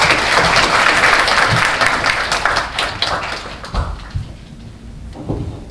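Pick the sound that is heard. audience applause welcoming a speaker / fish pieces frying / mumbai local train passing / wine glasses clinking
audience applause welcoming a speaker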